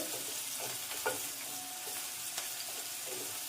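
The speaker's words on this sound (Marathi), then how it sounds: "तेल चांगलं गरम झालं त्यात वाटलेलं लसूण घालून घ्यायचं लसूण तेलामध्ये परतून घ्यायचं" Crushed garlic frying in hot oil, a quiet steady sizzle with a few soft stirring clinks, close and low in level, no voices.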